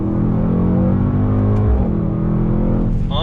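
A 2019 Mercedes-AMG GT 63 S sedan accelerating hard in second gear, its engine note rising in a loud, close, continuous roar that climbs steadily in pitch.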